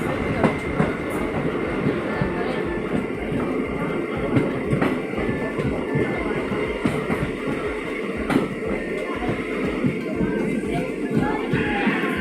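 A Pune to Solapur DEMU passenger train runs along the track, a steady loud rumble inside the coach with repeated clickety-clack of wheels over rail joints and faint crowd murmur.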